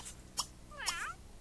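A playful pet kitty in The Sims 3 gives two short, soft meow-like calls about half a second apart, fairly faint and alone, with no voices.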